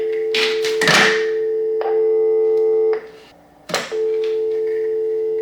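A steady telephone dial tone on an open line, heard through a lineman's test set handset, hums loudly, broken by clicks and handling knocks, cutting out briefly before resuming.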